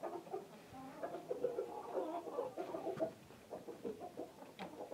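Several hens cluck softly and steadily close by, a low, busy murmur of hen sounds with occasional sharper notes.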